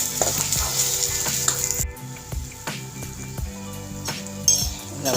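Turmeric, cumin and asafoetida powders stirred together in a frying pan while making a rasam, with a steady sizzle and repeated clinks of a spoon against the pan.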